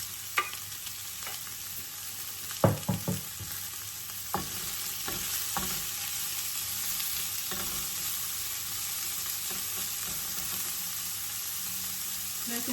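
Sliced onions with turmeric fry in a pan for Filipino chicken tinola, giving a steady, close hiss of sizzling oil broken by a few sharp clinks and scrapes of stirring early on. No one speaks.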